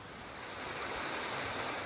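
A river running past a village, heard as a broad, continuous rushing wash of water that swells slightly louder partway through, steady and without voices.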